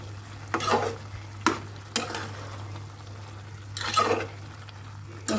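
Small fish chorchori with cumin and tomato frying in a pan, soft sizzle under a steady low hum, with a few sharp scraping stirs of a spatula against the pot.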